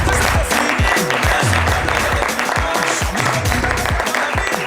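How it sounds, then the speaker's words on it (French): Loud applause from a French television studio audience, with music playing beneath it the whole time, welcoming a women's championship-winning team onto the set. "Je pense que je peux les applaudir très,"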